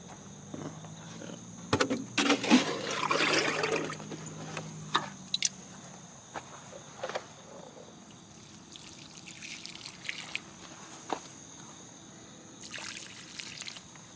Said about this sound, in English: Now we're gonna water our greens.